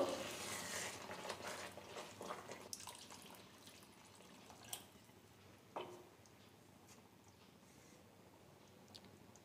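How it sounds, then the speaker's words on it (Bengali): Hot water is poured into frying spinach curry, giving a soft hiss and sizzle that fades over several seconds, with a few faint clinks and stirring sounds. "এবার গরম জল দিয়ে দেব 1/2 কাপ মতো।"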